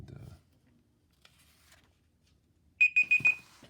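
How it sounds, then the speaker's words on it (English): A beeping alarm clock goes off near the end, a run of sharp, evenly spaced high electronic beeps after near silence with a few faint rustles. "oh, there goes my alarm"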